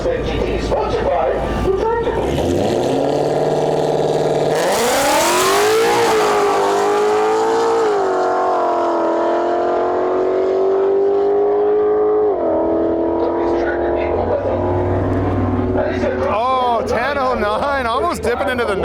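Drag racing cars at Interlake Dragway, including a 1969 Plymouth Satellite, launch and accelerate hard with loud, rising engine roars that sweep upward in pitch, close and sustained, while a commentator talks over the racket.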